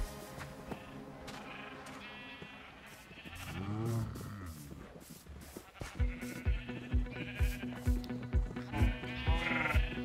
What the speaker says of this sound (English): Figured I'd go ahead and get these sheep out of there, give me more room to work.